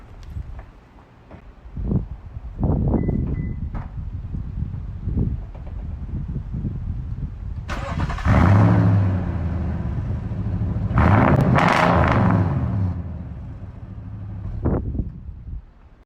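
A Toyota Tundra pickup with dual Flowmaster Outlaw side-exit exhaust idles with a rough, throaty rumble, then revs loudly twice, the second rev long and sustained before it settles again.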